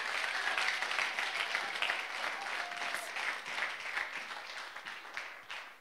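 Applause fills a church during a sermon, a dense, steady burst of clapping from the congregation that gradually tapers off over several seconds.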